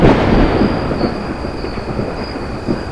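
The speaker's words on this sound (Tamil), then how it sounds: "இடி மின்னலுமா இருக்கு? மழை வருமா?" Thunder rumbling in a thriller movie scene, a loud low roll with rain-like hiss that stays fairly steady and then fades slightly over a few seconds, with no voices.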